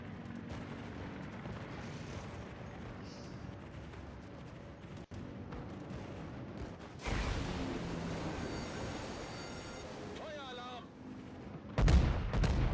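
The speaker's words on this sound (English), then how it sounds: "And the dive bombers are back." Dive bombers attacking in a naval warfare video game: sustained rumbling gunfire and explosions, loudest bursts toward the end, with faint talk underneath.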